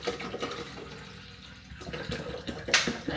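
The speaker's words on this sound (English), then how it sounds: "but let's pour some water in" Water poured into the tank of an Amzchef coffee machine at home, a steady splashing trickle that grows brighter and fuller toward the end, close and moderately loud with no talking.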